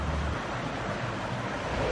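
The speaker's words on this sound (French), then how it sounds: "Ce sont des chutes d'eau gigantesques." Giant waterfalls at Sekumpul in Bali roar as a steady, loud wash of water noise with some wind buffeting, continuous and unbroken throughout.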